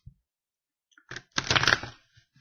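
Tarot cards are shuffled by hand in brief dry riffling bursts, close and quiet, with silent gaps between.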